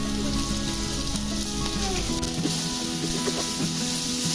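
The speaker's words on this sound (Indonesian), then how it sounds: "Diaduk hingga rata." Vegetables seasoned with salt, pepper and parsley sizzle and crackle in a hot frying pan while being stirred, a dense, steady hiss with faint scraping underneath and no voices.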